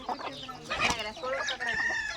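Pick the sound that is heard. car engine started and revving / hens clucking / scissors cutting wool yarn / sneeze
hens clucking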